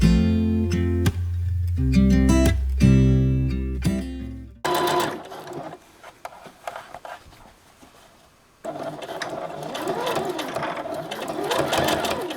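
A sewing machine stitches fabric in rapid rhythmic runs with brief pauses, close and clear, followed by quieter handling noises and rustling.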